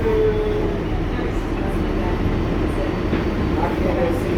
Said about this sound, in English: This train is going back to the Bronx.